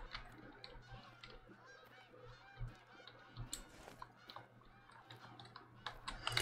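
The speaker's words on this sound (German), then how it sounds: "Da sind Gänse jetzt gelandet." Geese in the hunting video game theHunter honk in a noisy, overlapping chorus, faint and somewhat distant, with scattered clicks and rustles mixed in and no talking.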